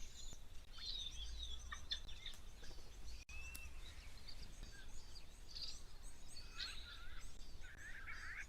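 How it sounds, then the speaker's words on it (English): Helmeted guinea fowl calling at an African waterhole, with scattered harsh chattering calls and other bird chirps at moderate distance over a steady outdoor background hiss, no talking. "Ah, guinea fowl, helmeted guinea fowl."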